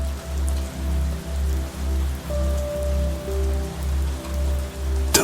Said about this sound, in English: The rain outside seems to pause, listening.